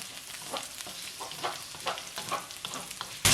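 Three large dried red chillies sizzle and fry in oil for vegetable upma, with a steady crackle and several sharp spatters as they are stirred in the pan, ending in a sudden loud burst.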